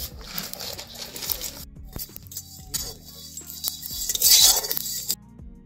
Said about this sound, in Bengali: এবারে একটা কড়াইতে নিয়ে নিচ্ছি গোটা গরম মশলা